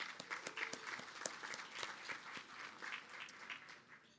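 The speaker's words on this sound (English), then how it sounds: "And so let's just give Yvonne a round of applause." A business chamber breakfast audience claps in a warm round of applause, individual hand claps audible as quick irregular spikes over the room, fairly faint and steady throughout.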